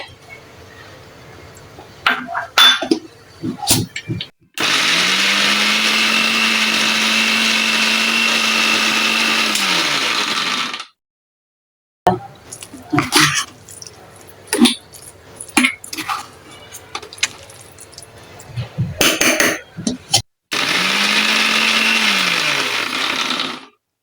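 Boiled corn being ground in a kitchen mixer, two loud sustained whirring runs of several seconds each, separated by clattering and knocks of handling the jar, then a third shorter burst.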